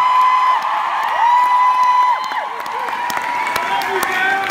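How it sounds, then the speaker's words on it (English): A live concert crowd applauds and cheers at a show, a dense sustained wash of clapping with sustained tones ringing through it. "Please give him a big round of applause."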